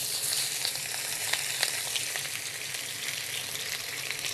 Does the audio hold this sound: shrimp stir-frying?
yes